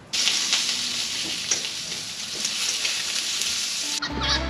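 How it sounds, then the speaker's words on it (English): Food fries on a barbecue while camping with a caravan, giving a close, steady crackling sizzle that cuts out abruptly near the end before a brief low clunk. "I'm going to keep cooking."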